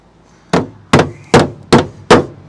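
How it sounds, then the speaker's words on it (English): Five sharp hammer blows land on a car body at an even, measured pace, each a loud, close, metallic thwack with a short decay, with quiet between the strikes. "Just keep hitting it with a hammer, it'll make it better."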